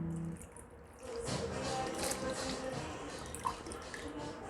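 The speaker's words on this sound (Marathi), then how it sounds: "साधारण चौथ्यांदा आता मला धुवत आहे." Shredded potatoes for chivda are swished and rinsed by hand in a bowl of water, giving quiet, close sloshing and dripping with a few small splashes.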